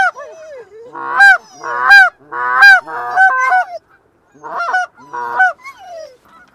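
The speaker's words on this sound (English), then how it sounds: "here comes more birds." Geese honking loudly and close as they fly in during an opening-day goose hunt in Pennsylvania, a series of strong rhythmic honks in bursts with a short pause midway.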